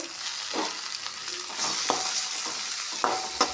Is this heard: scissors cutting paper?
no